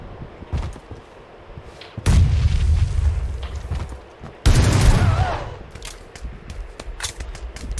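Shotgun blasts in PUBG Lite team deathmatch gameplay on PC: two loud, broad booming shots with ringing tails, surrounded by fainter distant gunfire and scattered clicks, with no talk over them.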